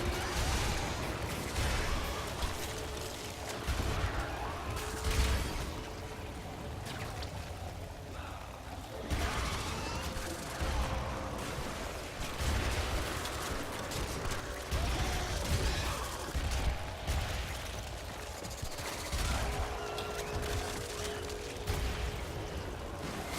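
A Hek shotgun in the Warframe video game fires rapidly again and again, its sharp blasts repeating through dense, busy game noise for the whole stretch.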